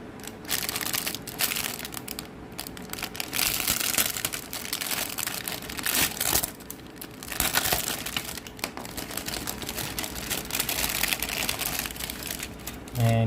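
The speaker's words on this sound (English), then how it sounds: "So let me crack open this plastic bag," Plastic crinkles and rustles steadily for a long stretch, close up and busy, as the bag of a 1/72 scale model kit is pulled and worked open; no talking.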